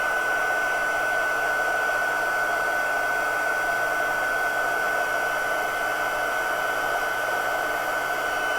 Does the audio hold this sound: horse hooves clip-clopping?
no